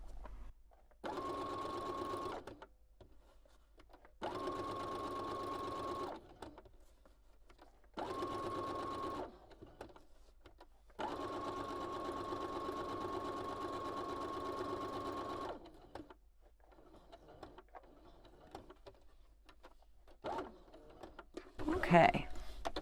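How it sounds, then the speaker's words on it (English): Sewing machine stitching in several steady bursts separated by short pauses, running close and loud, with a few faint clicks and handling sounds at the end. "Sewing Machine."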